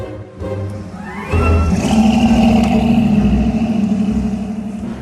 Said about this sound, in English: And with this car getting into the venue